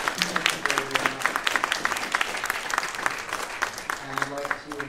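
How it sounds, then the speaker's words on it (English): An audience claps for panel guest speakers at a university symposium, a dense round of applause with sharp individual claps that holds steady and tapers slightly near the end. "Could I have a round of applause for our guest speakers?"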